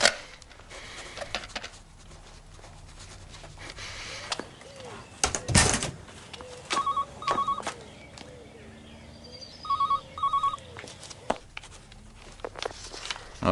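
A telephone rings indoors in two pairs of short, fairly faint double rings, separated by a pause. Scattered footsteps, knocks and a door-like thud surround the rings, with no speech.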